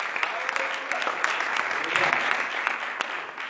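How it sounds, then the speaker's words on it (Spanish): A church congregation claps its hands in praise during a bilingual Spanish-English sermon, a continuous crowd applause with sharper individual claps standing out, under and around some speech. "Dale un aplauso."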